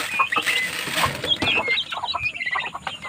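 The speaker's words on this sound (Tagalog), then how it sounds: "Ito naman sa kabilang tulungan ang aking mga sisiw, mga bagong pisang inahin na manok, saka ang dalawang pato." Chickens cluck and chirp in a small backyard farm, a busy mix of short, close calls with some wing flapping, and no voices.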